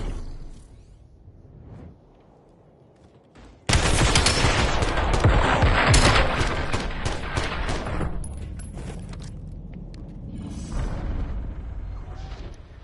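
Gunfire from a gun in Black Ops 7, quiet ambience and then a sudden loud sustained burst of rapid automatic shots that slowly thins out amid game noise.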